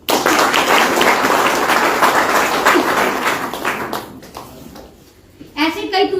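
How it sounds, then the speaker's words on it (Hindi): An audience at an OK Life Care product training session in Kaimur, Bihar bursts into dense, loud clapping that holds for about four seconds, thins out and fades, before a voice resumes speaking. "एक बार ताली बजा दीजिए।"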